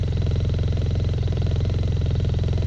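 A 2019 Arctic Cat Norseman 3000 snowmobile runs quietly at close range, its engine a low, even, softly pulsing hum that holds steady throughout with no talking.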